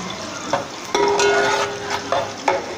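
Onions sizzle and fry in hot oil for a biryani, with a steady hiss and a few sharp clinks and scrapes of a spoon stirring the pan close by.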